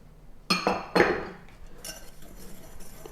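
A utensil stirs dry pancake ingredients (flour, baking powder, sugar, salt and lemon zest) in a glass bowl, producing a few sharp, close clinks against the glass, then a softer scraping rustle fading away.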